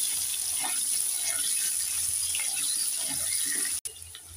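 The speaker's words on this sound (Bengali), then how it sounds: "এবার মাছ ভাজা তেলের মধ্যে আলুটাকে ভেজে নেব।" Potatoes frying in leftover fish-frying oil in a pan, giving a steady loud hiss and sizzle throughout, ending in a sudden brief dropout near the end, with no talking.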